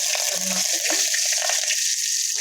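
Cumin and mustard seeds crackle and sizzle in hot oil as a sambar base is tempered, a steady close frying hiss with a brief lower bubbling burst early on.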